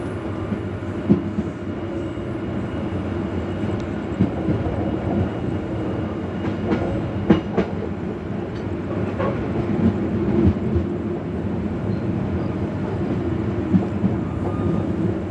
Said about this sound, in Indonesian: Kereta api Singasari sekarang sudah diberangkatkan dari stasiun Kertosono